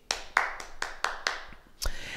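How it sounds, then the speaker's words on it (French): A small group claps for themselves after a martial movement exercise, six or seven separate, unsynchronized claps spaced about a quarter second apart, close and fairly quiet, with a brief pause before a final clap. "On s'applaudit."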